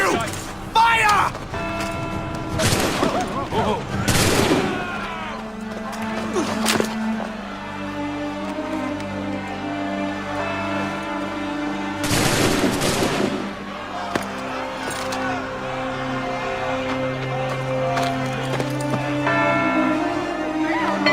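Musket volleys crack out in Assassin's Creed 3, a few sharp loud bursts spaced several seconds apart over a steady game soundscape with voices talking.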